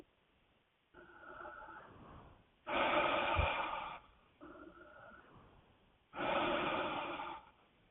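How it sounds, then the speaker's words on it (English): Two slow rounds of deep breathing up close: each soft inhale is followed by a louder, rushing exhale, quiet and unhurried, with no talking. "I'm just going to invite you to take a couple of deep breaths with me"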